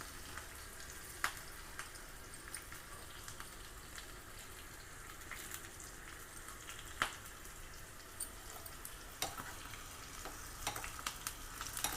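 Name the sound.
tempering spices sizzling in oil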